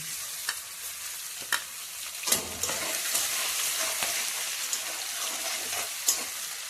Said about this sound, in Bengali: এই তেলে এবার তেজপাতা শুকনো লঙ্কা দিয়ে দিচ্ছি। রসুন দিয়ে দিচ্ছি।